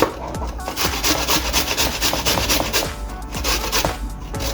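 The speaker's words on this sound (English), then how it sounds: "so I'm just gonna use the grater to shred them" Carrots shredded on a hand grater in a home kitchen, a steady run of scraping, rasping strokes close by, fairly loud and continuous with no talking.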